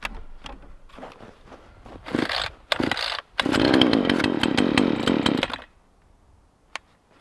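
A cheap chainsaw is pulled a few times, catches, and roars at close range for a couple of seconds before dropping to silence, with a sharp click afterward.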